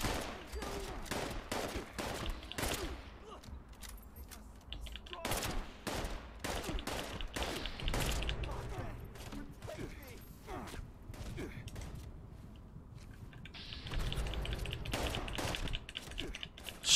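Rapid gunfire in the Fallout 76 video game, a dense run of sharp repeated shots in fast bursts with brief pauses, loud and close, with a voice shouting over parts of it.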